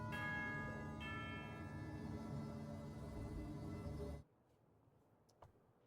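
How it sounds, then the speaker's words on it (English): A single bell toll in Genshin Impact rings out with a bright metallic strike and a long sustained shimmer that fades over about four seconds before cutting off abruptly, leaving near silence with a faint tick. "Yes, the sound of a bell, the sound of a bell."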